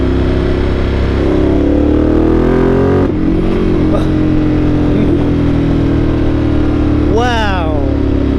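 A Ducati 1200 Multistrada Enduro motorcycle engine drones loud and close, with pitch shifts as the throttle is worked and one sharp rising rev near the end. Speech overlaps it.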